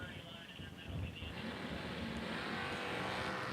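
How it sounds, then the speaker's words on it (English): NASCAR-powered Dodge Mopar drag racing car at a drag strip, a loud sustained engine roar building and holding at full throttle, with wind buffeting the microphone. "we've got Chris Cadle in the right lane. NASCAR-powered Dodge Mopar."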